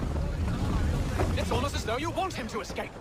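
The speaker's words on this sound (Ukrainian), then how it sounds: "Вітер дуже сильний." Strong wind roars and buffets the microphone in a rough, steady gust, while a voice talks underneath partway through.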